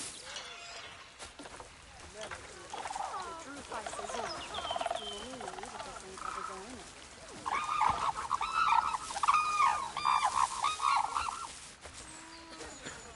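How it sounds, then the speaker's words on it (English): Cranes in a zoo video game squawk in a run of honking calls that grow louder partway through, heard amid ambient game sounds and a faint background murmur. "I can hear the the cranes squawking over here."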